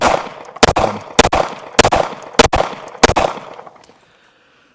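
Taurus GX4 Carry pistol firing five loud, sharp gunshots spaced roughly half a second apart, each with a short ringing tail, before the sound drops to silence.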